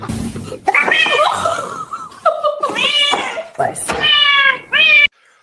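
A cat gives a run of loud, drawn-out meows, several rising into caterwaul-like cries, with short gaps between them and people talking and laughing around them.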